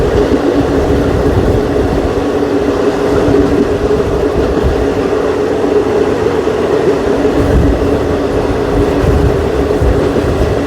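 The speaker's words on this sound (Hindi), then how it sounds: "हमारी क्रॉसिंग होने जा रही है श्री गंगानगर तिलक ब्रिज एक्सप्रेस के साथ" Loud, steady rumble and rattle of a passing Sri Ganganagar Tilak Bridge Express hauled by a locomotive, heard at close range from another train during a crossing, continuous for about ten seconds with no voices.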